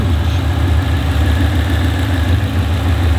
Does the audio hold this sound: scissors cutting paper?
no